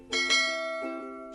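A notification bell effect rings out, a bright double chime whose ringing tones hang on and slowly decay, followed by a short third strike near the end.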